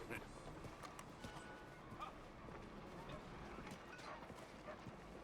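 Horse hooves clip-clop at a steady trot in the Western video game Red Dead, faint and continuous beneath ongoing talk.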